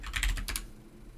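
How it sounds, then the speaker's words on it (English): Rapid clattering of computer keys, a short loud burst of typing that stops abruptly, with no voices. "Loud keyboard coming up."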